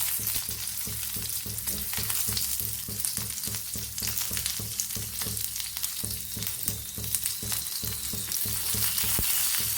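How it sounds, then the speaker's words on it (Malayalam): Shallots sautéing in oil in a pan: a continuous bright sizzle with an occasional stir, steady and close throughout with no talking. "കൊച്ചുള്ളി ഇട്ട് കൊടുക്കാം"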